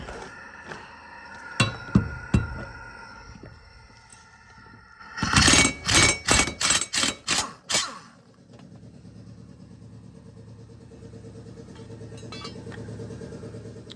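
Blades being removed from a Toro Z Master 3000 Series zero-turn mower with a 3/4 inch wrench: a few sharp metallic clanks, then a rapid loud burst of ratcheting or impact hits, followed by a low steady hum.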